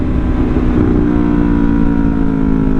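A Yamaha R3 sport motorcycle cruises at a steady rpm, its engine drone loud and close and holding an even, unbroken hum with no voices.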